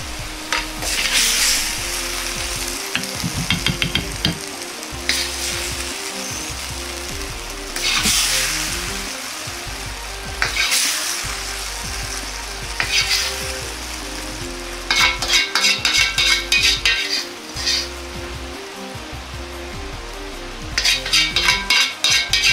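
Cabbage sizzles and crackles as it is stir-fried in a hot pan while a utensil repeatedly scrapes and clinks against it, in bursts of stirring.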